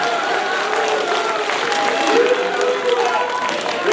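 Crowd applause at a Democratic Party convention speech in Gwangju fills the room, a steady wash of many hands clapping at an even loudness throughout.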